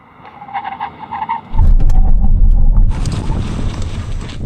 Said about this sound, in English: Emergency stop time from 60 miles an hour.